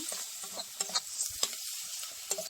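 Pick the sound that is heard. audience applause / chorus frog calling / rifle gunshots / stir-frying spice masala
stir-frying spice masala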